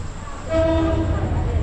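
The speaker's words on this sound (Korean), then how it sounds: "기차가 오고 있고" A train arrives at a station in Ayutthaya, Thailand, sounding a steady horn tone over rumbling railway noise, loud and close.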